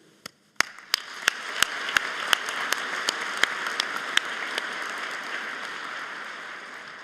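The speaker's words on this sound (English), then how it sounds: "Let's keep the applause going as I announce today's platform party." Audience applause fills a convocation ceremony hall, starting with scattered sharp claps that swell into steady, dense clapping from a large crowd, sustained and fairly loud throughout.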